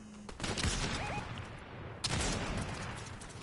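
Video game gunfire, including sniper shots, cracks out in two sharp bursts with rattling tails, one near the start and another about two seconds later, with no voices over it.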